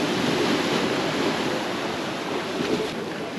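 Waves washing steadily onto Playa Chiquita, a tiny beach about thirty yards wide in Sosúa, with a continuous, close broadband surf roar and some wind buffeting the microphone, no voices.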